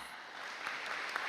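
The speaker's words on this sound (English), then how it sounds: "Let's give Derek a round of applause." A brief, even wash of audience clapping fills a high school National Honor Society induction ceremony, sustained at moderate level as a new member is welcomed.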